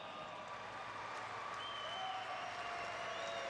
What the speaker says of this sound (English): let's give Mike one more nice round of applause.